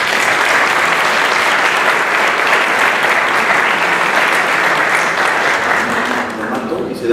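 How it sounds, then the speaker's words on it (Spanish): A university forum audience applauds steadily, a dense, loud wash of clapping that holds evenly for several seconds and then thins out toward the end. "Un aplauso para ella, por favor."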